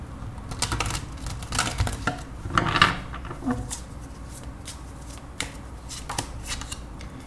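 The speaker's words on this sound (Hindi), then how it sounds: "हम निकालेंगे 7 टैरो कार्ड्स।" Tarot cards are shuffled and drawn close up in quick, papery riffles and soft flicks, with faint clicks between bursts and only slight speech in the background.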